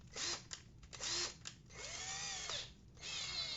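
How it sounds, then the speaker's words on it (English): A cordless drill whirs in several short bursts as its chuck is opened, the motor spinning up and winding down repeatedly, close by with no talking. "take your drill, open it up, and stick it in that plastic jag"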